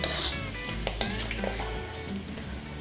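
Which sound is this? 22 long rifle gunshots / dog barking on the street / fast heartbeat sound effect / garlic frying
garlic frying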